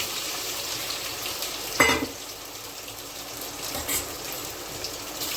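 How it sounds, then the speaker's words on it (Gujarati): Muthiya dhokla frying in hot oil with sesame seeds, a steady soft sizzle with a sharp splashy burst as pieces drop in and a smaller crackle later. "હવે આપણે તેલ ગરમ થઈ ગયું છે તો આપણે ઢોકળા પણ એડ કરી દઈએ."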